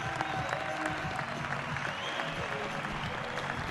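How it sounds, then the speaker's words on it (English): Crowd at a rugby match in KwaZakele, Eastern Cape, applauding an injured player off the field, a steady dense clapping wash that holds evenly throughout. "Just see the crowd clapping him off."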